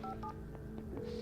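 A telephone is dialed in Alan Wake, with a quick series of short touch-tone beeps, distinct and close over a low steady hum, about four or five tones in just over a second.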